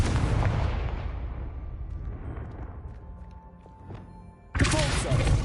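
A Confringo fire spell in Hogwarts Legacy lands as a heavy explosive boom that rumbles and fades over several seconds, then a second sharp blast bursts in just before the end.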